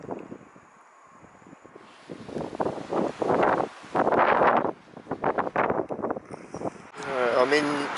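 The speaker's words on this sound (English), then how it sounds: "Unfortunately, it's just a bit too windy here." Gusty wind buffets an outdoor microphone on the Isle of Wight, low rumbling bursts that come and go beneath a person talking close to the mic.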